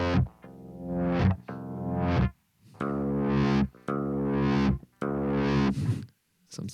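Distorted electric guitar notes swelling in gain through a Kemper's morph function, several sustained tones, each rising and then cutting off, with effects, close and alone.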